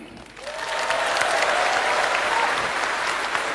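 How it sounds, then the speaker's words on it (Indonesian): Loud, steady applause from a large crowd at a political rally, a thick wash of clapping that swells in and holds evenly throughout. "Tepuk tangannya kurang semangat."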